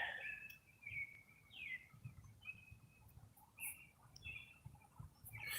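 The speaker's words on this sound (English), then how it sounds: "The birds are chirping." Small birds chirp and whistle in repeated short calls at sunrise in Civic Center Park near the Capitol, fairly distant and faint over a low outdoor rumble of city background.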